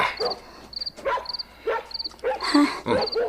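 A dog barks in a series of sharp, spaced yaps and woofs at a moderate distance, several short bursts in quick succession with brief gaps between them.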